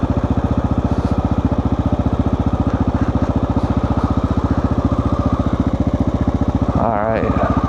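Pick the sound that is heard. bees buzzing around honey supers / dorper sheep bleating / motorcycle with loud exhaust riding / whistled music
motorcycle with loud exhaust riding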